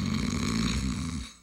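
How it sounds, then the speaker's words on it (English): A loud, deep rattling snore holds for about a second and then fades away, heard on its own. "Snoring. It's not just something to laugh about."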